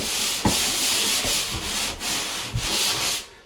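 Drywall being sanded by hand, a continuous close rasping scrub in repeated strokes with brief dips between passes and a few light knocks, loud and steady with no talking.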